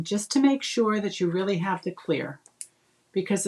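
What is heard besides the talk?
None of the usual background noises is heard.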